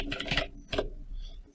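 Brief typing on a computer keyboard: a few quick close key clicks in two small bursts, then a single sharp tap at the end.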